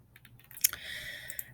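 Someone types on a computer keyboard, a short run of light key clicks with one sharper tap partway through, close and fairly quiet, with no talk.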